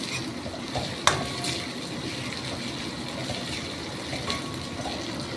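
Small mourala fish fry in spiced oil over high heat, giving a steady close sizzle with occasional sharp clinks of a stirring utensil against the pan.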